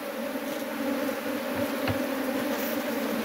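Bees buzzing around an open beehive during a hive inspection, a steady, even drone with no break, with a couple of faint knocks beneath it.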